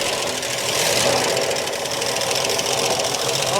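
A 1961 Chevy Biscayne engine, left sitting in a junkyard for over 30 years, runs loud and rough, a dense, constant roar with a knocking edge and no pauses.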